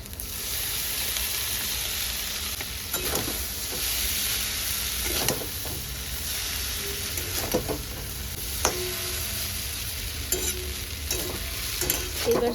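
Maggi noodles sizzle steadily in a hot pan while being stirred, with a constant frying hiss and occasional scraping and clinking of the utensil against the pan.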